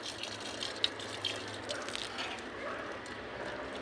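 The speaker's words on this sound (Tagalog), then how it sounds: "Mahina lang pala yung pagbukas ko ng gripo doon sa baba. Kaya mahina yung tubig guys." Water from a barely opened garden tap runs at a weak, steady trickle during morning plant watering, faint and continuous with a few small clicks.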